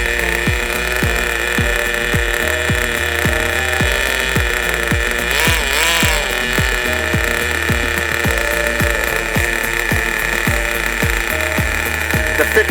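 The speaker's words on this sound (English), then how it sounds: "there's a small amount of two-stage idle now that the engine's warming up" An ENYA 11CX nitro race engine idles on a test stand while warming up during break-in, a loud, steady buzzing drone with rhythmic pulsing and a slightly uneven two-stage idle, running continuously throughout.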